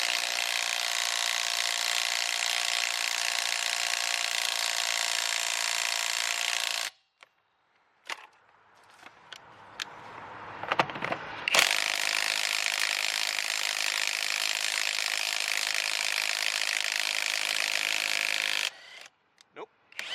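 An affordable cordless 1/2-inch impact driver runs in two long, loud, close bursts separated by a quieter stretch of scraping, clicks and handling noise.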